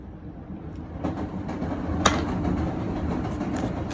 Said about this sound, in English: the trains are just going to be going through and through